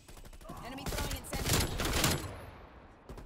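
Rapid bursts of M16 rifle fire in the video game Call of Duty, with a Mastercraft variant firing acid tracer rounds, loud and close, a player's voice briefly audible under the shots.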